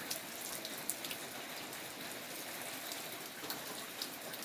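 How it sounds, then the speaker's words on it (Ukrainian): Steady light rain patters softly on a surface, a continuous hiss broken by a few sharper drops, with no voices. "у нас іде дощик"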